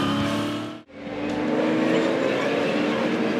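A 2006 Supercars Championship race car at the Darwin circuit roars loudly under hard braking into turn 1, the engine note dipping briefly before surging back as the car passes close by.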